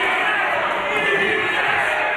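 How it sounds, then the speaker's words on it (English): A boxing crowd from Lurgan cheering inside the Ulster Hall, a loud, steady roar of voices and shouting that fills the room without a break. "There's a really good crowd from Lurgan in here, and they're cheering Haughian on here to the echo"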